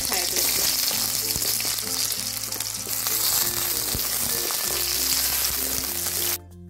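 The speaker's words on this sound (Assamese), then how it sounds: "ইয়াতে মই আলু কেইটুকুৰা অকণমান ফ্ৰাই কৰিছোঁ।" Potato pieces frying in oil in a wok, a loud, close, continuous sizzle and crackle that holds steady before cutting off abruptly near the end, with no one talking.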